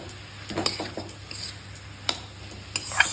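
Metal spoon clatters and scrapes against a pot as fried prawns are tipped in and stirred with onion, garlic, green chilli, salt, turmeric and black cumin, giving sharp irregular clinks over a faint low hum.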